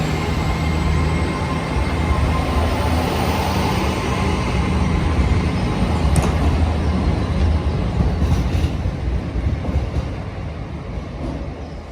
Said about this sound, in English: This is our next train now.